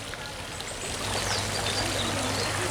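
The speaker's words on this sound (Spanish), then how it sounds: "el ruido del agua está lindo" Water running steadily in a neoclassical garden, a soft, even trickling and splashing wash that swells slightly midway, heard alone at moderate distance with no talk.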